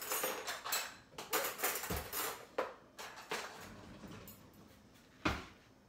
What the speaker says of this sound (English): So let me just grab a spoon.